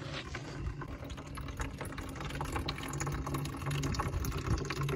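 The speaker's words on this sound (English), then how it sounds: "It's gonna be it'll be a couple minutes for us to fill up this gallon jug." Water from a spring pipe pours steadily into a gallon jug, a continuous close splashing and trickling stream with a rising fill tone, heard alone without speech.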